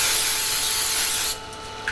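Tresemme hairspray hisses in one close, loud burst onto the bed of a Sovol SV02 3D printer, then cuts off abruptly and leaves a quiet room.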